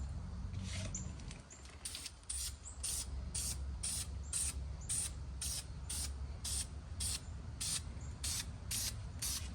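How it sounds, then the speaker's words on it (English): Rapid bursts of aerosol spray hiss as primer is sprayed onto brake calipers, repeated in a steady rhythm of short pulses, close and fairly loud with no talking. "Go ahead and put your final third coat of primer on."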